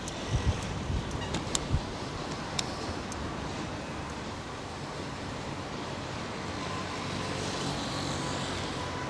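Strong wind roars continuously across the microphone while cycling in Amsterdam, a dense, heavy rush of noise with a few sharp buffeting bumps early on.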